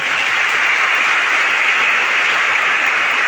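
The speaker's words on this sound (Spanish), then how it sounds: "Aplausos al Señor" A church congregation applauding during Sunday Mass. Dense, loud, even clapping is sustained for the whole stretch with no pauses.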